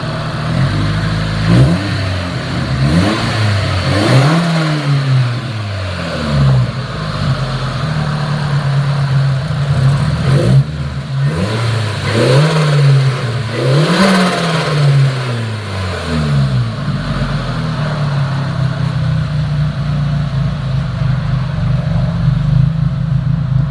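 Car engine, already warmed up, revved repeatedly in several rising and falling bursts over a steady idle, loud and close with no talking.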